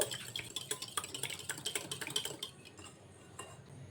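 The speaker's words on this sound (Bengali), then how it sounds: "ডিমটিকে একটু আমি মিশিয়ে নেব।" Rapid, rhythmic clicking of a utensil whisking a cracked egg in a bowl, a quick steady beat of light taps for a couple of seconds before slowing and fading to a few soft strokes.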